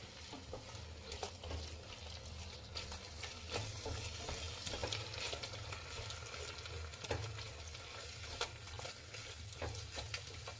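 Four beaten eggs fry in a hot pan for hotel-style egg rice, giving a steady close sizzle with scattered clicks and scrapes of stirring throughout, no voices.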